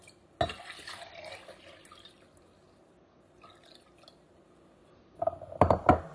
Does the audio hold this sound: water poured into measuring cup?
yes